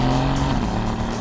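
Inside a 2016 Mercedes-AMG GT S on the move, a steady, close engine drone blends with constant road and tire roar, loud and unbroken, with no talking.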